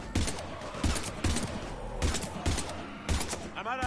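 Gunfire in Mass Effect 3 Legendary Edition crackles in repeated heavy bursts, a few evenly spaced volleys of loud, punchy shots with dense combat noise between them.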